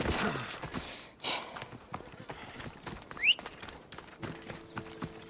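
Horse hooves clopping in Assassin's Creed Odyssey, a steady run of near, moderately loud hoofbeats with a brief sharp squeak partway through.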